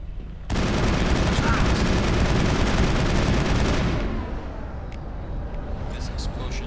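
Sustained automatic gunfire and battle noise from a Mass Effect 1 firefight, loud and dense for several seconds before dropping to a lower rumble, with a voice calling out over it.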